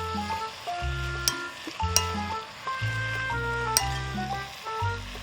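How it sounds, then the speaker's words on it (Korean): Cabbage stir-fried in a pan for a beef, cabbage and perilla seed soup gives a steady sizzle with stirring scrapes and occasional clinks, heard alone and close. "배추의 풋내도 제거가 되는 효과가 있어서 한번 볶으시면 좋습니다"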